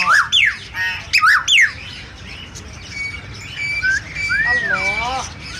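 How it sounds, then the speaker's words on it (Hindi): A myna bird calling inside a busy bird market shop, with sharp squawks and whistled chirps close by, first in quick bursts and then as longer rising and falling whistles, while people talk in the background. "ये मैना बोल रही है ना?"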